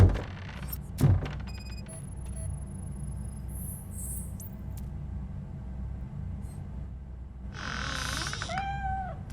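A cat in the RoboCop: Rogue City video game gives a single drawn-out meow near the end, heard over a steady low ambient hum with a few faint clicks and thuds earlier.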